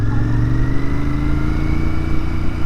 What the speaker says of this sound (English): Ooh, another Royal Enfield. An Interceptor.